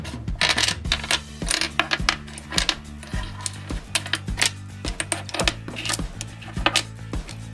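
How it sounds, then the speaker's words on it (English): Plastic Disney Princess dominoes clack and tap on a table as they are flipped face down, a rapid irregular series of sharp hard clicks under a steady music bed, with no talking. "Flip all the dominoes facing down."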